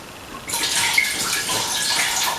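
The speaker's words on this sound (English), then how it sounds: "we're going to take 1 bottle of wine and we're going to pour it into our stainless steel pot" Red wine pours from a bottle into a stainless steel pot in one continuous, close gurgling stream that begins abruptly and keeps running steadily.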